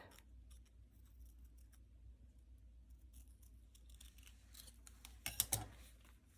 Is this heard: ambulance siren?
no